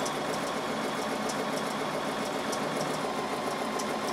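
A sewing machine running steadily during free motion quilting of small-scale stonework patterns, a continuous even mechanical whir close by with no talking.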